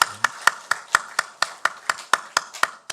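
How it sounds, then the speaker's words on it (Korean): A church congregation claps in a steady, even rhythm, about four claps per second, each sharp and distinct, with no talking over it. "우리 축복의 박수 칩시다."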